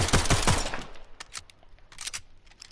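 Rapid burst of SMG fire in the video game Splitgate, a loud close volley of sharp shots that quickly stops, followed by a few scattered clicks and clatters from the weapon.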